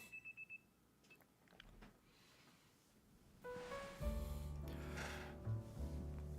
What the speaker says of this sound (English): your alarm is going off